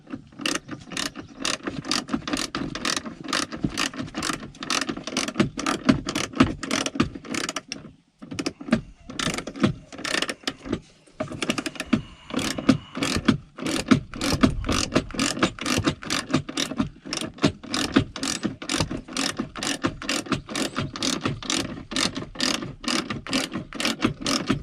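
A ratchet with a 13 mm socket tightens a bolt during a Tesla Model 3 seatbelt and airbag module replacement, giving rapid, steady clicking close by that runs nearly continuously with two brief pauses.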